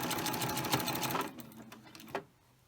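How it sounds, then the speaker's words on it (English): Sewing machine stitching soft Minky fabric, a steady fast mechanical whir for about two seconds, then slowing and stopping with a brief final burst before quiet. "now I'm just slowly sewing, taking my time"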